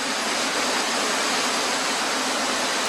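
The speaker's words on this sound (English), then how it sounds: "Now I like the sound of that waterfall," Steady roar of a waterfall, dense broadband rushing water that stays loud and unbroken throughout, with no voices.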